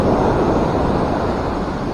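Waves surging onto a sandy shore at high tide during shorecasting, a loud, steady broadband wash of surf close to the microphone, with wind buffeting mixed in.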